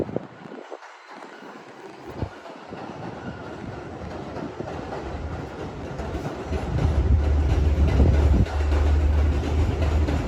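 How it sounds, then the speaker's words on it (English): A Long Island Rail Road train passes at Hunterspoint Avenue, a steady outdoor rumble that builds and grows louder, with a low drone and clatter taking over in the second half; wind buffets the microphone. "Once the Long Island Railroad train passes"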